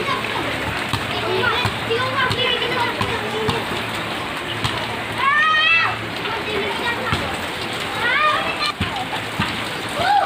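Steady patter of a light first rain and splashing water fills the scene as children bathe in it, their voices and chatter mixed in throughout.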